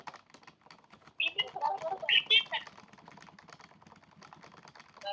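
A keyboard connected to a phone clatters with steady, fast typing throughout, close and moderately loud, while voices talk over it in the middle.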